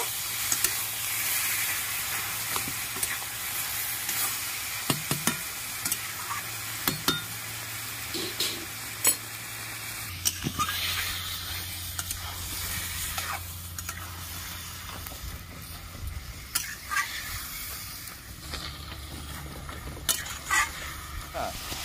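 Coconut, chickpeas and taro leaves with salt sizzling and being stirred in a pan, a steady frying hiss with scattered clinks of a utensil against the pot, and a voice speaking briefly at times.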